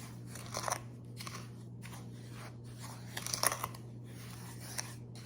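Sugar and ground cloves being stirred together in a bowl for Russian tea, with soft close crunching and gritty scraping in irregular strokes over a steady low hum, no voices.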